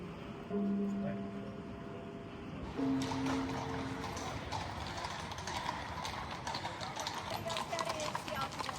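A horse-drawn calèche rolls through Vienna, its hooves clip-clopping in a steady rhythm at moderate distance amid street noise and a faint background voice.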